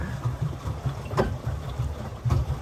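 A boat's engine putters at Siswan dam, a low, steady rumbling drone close by with faint water and wind noise over it.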